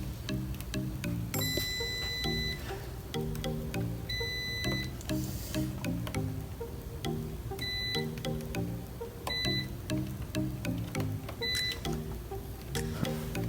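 A continuity tester chirps in repeated short beeps as fuses are checked on a Ford Focus ST, the tones coming in irregular bursts over a low electrical hum, close and moderately loud.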